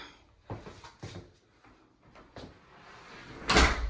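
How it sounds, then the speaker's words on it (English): A closet door in a new two-story model home is swung shut, with a loud close near the end following a few soft earlier knocks and handling sounds in a quiet room. "I'm gonna shut this door."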